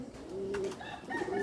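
Hungry pigeons coo close by while being fed, a few soft, rising and falling throaty calls over light background rustling.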